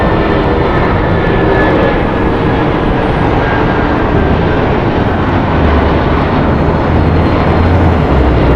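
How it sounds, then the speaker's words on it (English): A 20-year-old United Airlines Boeing 757-300 departs LAX, producing a loud, sustained engine roar with a faint whine above and deep rumble building slightly toward the end. "Departing United Airlines Flight 3880 going to Chicago. It's a Boeing 757-300, 20 years old."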